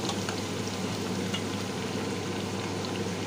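Garlic frying in a hot pan: a steady, close crackling sizzle with dense spattering pops and no pauses, running evenly throughout.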